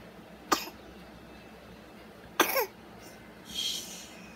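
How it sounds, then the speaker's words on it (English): Two short, sharp coughs ring out a couple of seconds apart in a quiet room, the second with a rougher tail, followed by a softer breathy sound. "She coughs, that means she's sick."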